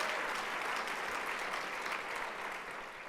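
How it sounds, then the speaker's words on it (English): Sustained applause fills a hall at the Michigan Shines for Autism gala, a dense, steady wash of many hands clapping from start to finish that tapers slightly near the end. "thank you for the applause"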